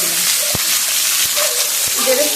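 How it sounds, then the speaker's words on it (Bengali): Onions fry in white oil in a wok for biryani, giving a steady, close sizzling hiss broken by a few sharp knocks of stirring. "পেঁয়াজগুলো ভেজে নেব কড়াইতে সাদা তেল দিয়ে দিয়েছি"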